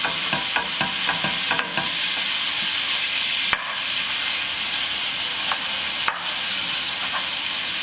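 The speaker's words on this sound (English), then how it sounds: "I forgot to defrost it, so it is a little bit frozen, but it's okay. I'll just break it up as it cooks." Partly frozen beef mince fries loudly in a pan for keto freezer meal prep, a dense steady sizzle broken by several sharp scraping knocks as a utensil breaks the meat apart.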